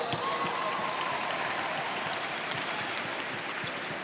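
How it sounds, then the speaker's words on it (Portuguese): Applause from a class audience at a mathematics lesson, a fairly faint, even patter of many hands clapping throughout, with no talking over it. "Uma salva de palmas para a matemática."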